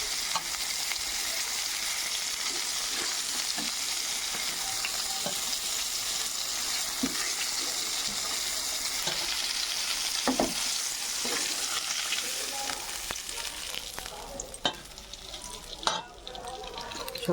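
Pieces of bhola fish fry in hot oil with a steady, dense sizzle that continues throughout. Occasional clinks and stirring scrapes sound near the end.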